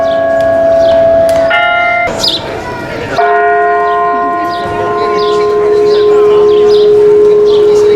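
Bell chimes from the musical clock at Central Park Zoo in New York City, where animal figures of monkeys ring the bell on top, sounding loud and ringing with sustained tones over a busy outdoor crowd.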